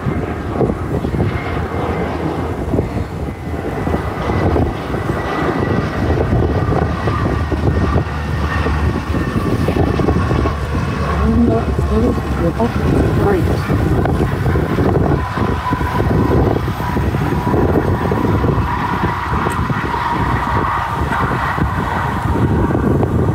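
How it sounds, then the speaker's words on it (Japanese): Airplanes come in to land one after another at an Okinawa airport, heard as a loud, sustained roar of jet engines mixed with gusting wind buffeting the microphone. "次々飛行機が飛んできます。 しかも速い、めっちゃ速い。"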